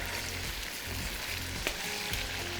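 Slit green chillies cooking in a hot pan produce a dense, loud, continuous sizzle with a couple of faint stirring knocks and no voices.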